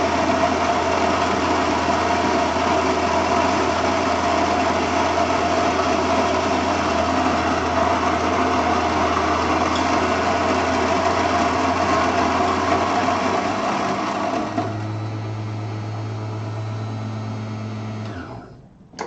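Electric coffee grinder grinding beans on a coarse setting gives a loud, steady whirring buzz for about fifteen seconds, then drops to a lower-pitched hum as the beans run out before the motor winds down.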